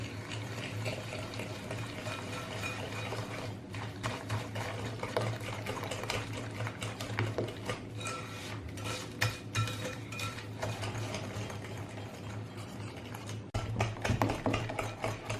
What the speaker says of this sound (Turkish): çırpıyorum.